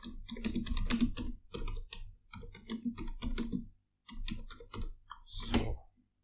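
Rapid typing of code on a computer keyboard in Android Studio, dense bursts of key clicks in several runs with short pauses, close and clear with no talking.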